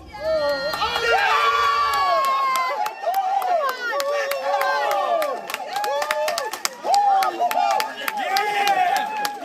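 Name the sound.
NASA scientists cheering and clapping after DART impact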